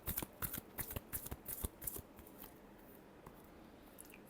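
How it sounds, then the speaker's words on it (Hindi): Tarot cards being shuffled by hand: a run of crisp, quick riffling snaps for about two seconds, then quieter faint rustles, close and soft without any talk. "Last shuffle."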